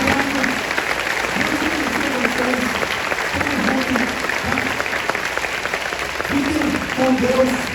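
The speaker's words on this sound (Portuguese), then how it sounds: "A salva de palmas para Jesus." Audience at a storytelling talk breaks into sustained applause, a thick continuous clapping with cheering voices rising and falling beneath it.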